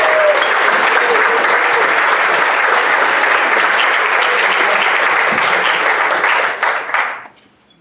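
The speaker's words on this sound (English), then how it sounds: "Can we give those students a big round of applause?" Loud, sustained applause from a luncheon crowd for high school honor scholars at a Rotary celebration, steady for several seconds before tapering off and fading out at the end.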